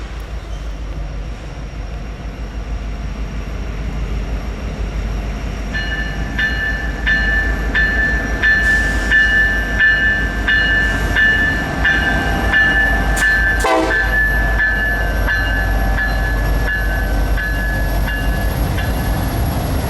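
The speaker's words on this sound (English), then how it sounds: "eastbound daily intermodal train IDAAT rolls up" An eastbound intermodal freight train on the KCS/CPKC line rumbles steadily past with a constant low roar, and a loud horn sounds several times midway through.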